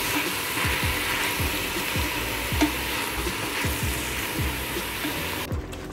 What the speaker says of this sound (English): I just gave my onions a good stir, put them down a little bit before I added my mince